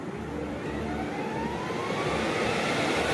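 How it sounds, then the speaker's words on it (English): Airliner jet engines spooling up for an idle engine run at Heathrow, a loud, steady broadband roar with a rising whine building over the few seconds, with no other sound breaking through. "So Sylvie's now going to start these engines."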